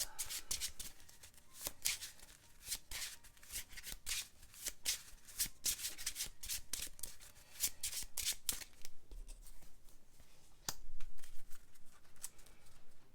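A deck of cards for the Legendary Encounters Alien board game is riffled and shuffled repeatedly, giving a dense run of crisp, close snapping bursts, each a quick papery riffle, with a softer, quieter stretch near the end.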